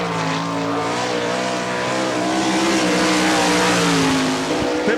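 A sprint-style race car on a qualifying lap of a dirt track at Barberville, Florida, its engine holding a loud, steady, high-revving drone that rises slightly in pitch, heard close and alone.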